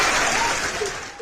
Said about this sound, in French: applaudissez pour vous les leaders